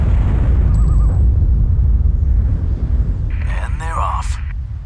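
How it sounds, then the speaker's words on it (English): Land mines going off in Sniper Ghost Warrior 2, a loud, deep explosive rumble with heavy low boom that fades slowly, while game voices speak over it. "We hit the place once the mines go off."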